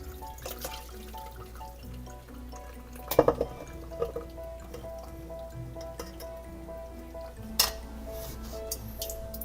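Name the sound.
straining beef bourguignon stew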